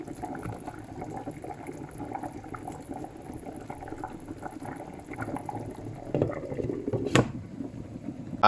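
Palm nut soup with oxtail simmers on the stove in a soft, steady bubbling boil, with a brief louder clink or splash near the end and no voices.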